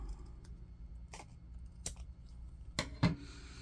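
Tim Holtz scissors snip through a coin holder in a few quiet, separate cuts, with soft crisp clicks spread out over a low background hum.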